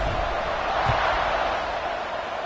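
A football stadium crowd buzzes with a steady, broad murmur of many voices, moderately loud and unbroken, with a faint thud or two underneath.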